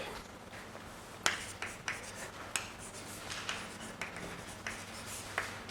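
Chalk or marker strokes on a board during a physics lecture on quantum black holes, a steady series of sharp taps and short scratches over faint room hum, moderately close with no talk.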